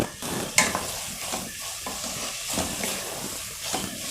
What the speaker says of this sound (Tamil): இது எல்லாமே சேர்ந்து நல்லா வதங்கட்டும்